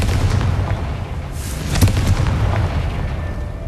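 A Confringo spell explosion in the Hogwarts Legacy video game, a muffled booming burst with crackling debris in the middle, set within a continuous rumbling, noisy background.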